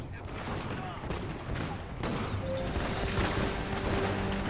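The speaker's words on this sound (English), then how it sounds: "Let's get the cannon to start taking out these." Cannon and artillery fire booms across a Total War: Shogun 2 battlefield. Scattered shots and crashes pile up into a dense, continuous barrage under the wider battle noise.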